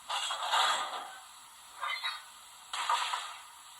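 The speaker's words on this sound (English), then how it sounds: "F3 is coupler noises." Coupler clanks from a Kato GS4 steam locomotive's DCC sound decoder: three short, faint metallic creaking clunks spaced about a second apart, with no speech.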